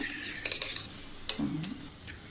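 Milk is stirred into cornflour batter for instant kharvas, and a spoon scrapes and clinks against the bowl in a few quick, light taps, close and fairly quiet, with no speech.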